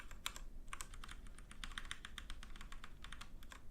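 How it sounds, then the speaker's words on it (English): Rapid, irregular clicking of arrow keys and number pad on a computer keyboard while playing a game, dense close taps in quick bursts over a faint background hum, with no talking. "On a keyboard, I'm literally on my arrow keys here and then the number pad"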